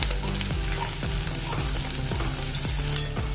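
Methi and peas vegetable mixture sizzles steadily as it fries in a pan, with a few stirring scrapes over a soft tonal background.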